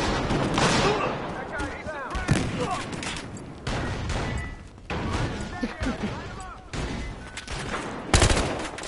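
Heavy gunfire in Battlefield Hardline: rapid automatic bursts and sharp single shots with occasional booms, near and loud, nearly continuous across the stretch, with voices talking in between.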